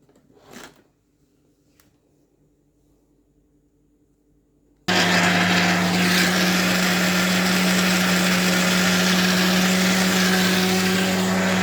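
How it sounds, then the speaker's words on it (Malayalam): Mixer grinder blending tomato chutney in its jar: after about five seconds of near silence with a faint knock, the motor starts abruptly and runs loud and steady, a dense whirring roar that continues to the end. "മിക്സിയുടെ ജാറിലോട്ട് ഇട്ടിട്ടുണ്ട്. ഇനി അത് അരയ്ക്കാൻ പോവുകയാണ്"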